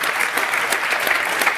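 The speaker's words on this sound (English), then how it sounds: "One last huge round of applause." Audience applause closing a podcast talk with Naval Ravikant and Balaji Srinivasan, a dense steady wash of many hands clapping at moderate level throughout, with no speech.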